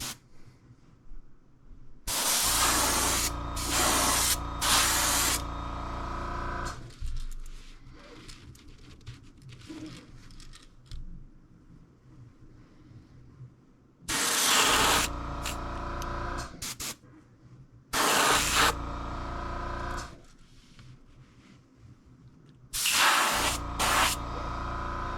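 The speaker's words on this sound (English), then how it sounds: "So we'll spray our second coat, and then we'll have another look at it." An airbrush sprays a second coat of paint onto a fishing lure in several bursts of loud, close hiss, some a few seconds long, with quieter gaps of handling noise between them.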